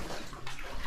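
Water runs steadily for under a second, a broadband rushing wash like a tub being filled or washed out, close and moderately loud with no voices.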